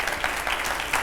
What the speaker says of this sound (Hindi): हमारे आज के मेहमान को जोरदार तालियों से स्वागत करिए।